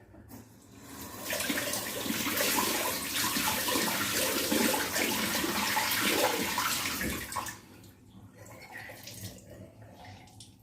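Water pours steadily from a tap into a sink for several seconds at a strong, even rush. Then it cuts back to a softer trickle with some clatter.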